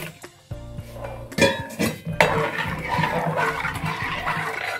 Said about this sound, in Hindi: इसमें पानी डाल रहे हैं।